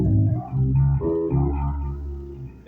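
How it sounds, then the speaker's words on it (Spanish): Hohner B Bass V five-string electric bass in passive mode with both pickups blended and no tone control, playing sustained low notes that swell and fade continuously for under three seconds, close and fairly loud with no voice. "Pero esto es el sonido de las dos pastillas."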